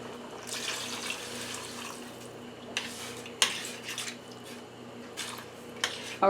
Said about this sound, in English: Gotta add some water to that.